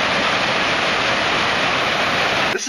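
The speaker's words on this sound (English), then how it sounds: "The water seeps into the earth and comes out and emerges, gushes forth actually, as springs all around this area." Springs feeding the Jordan River at Tel Dan gush in a loud, steady broadband rush of water, close and unbroken, cutting off abruptly at the end.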